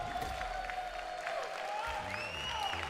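A crowd cheers and applauds at the CEO 2024 fighting game grand finals for Mortal Kombat 1, a distant, sustained roar with scattered shouts and whistles and no clear talk.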